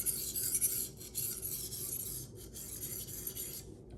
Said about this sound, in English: I'll sharpen it again, so I really only need to go through this like twice per side